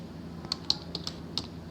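A short burst of typing on a computer keyboard while entering code, about five distinct close key clicks spaced irregularly over low room hum.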